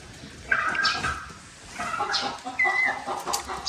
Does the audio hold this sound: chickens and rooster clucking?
yes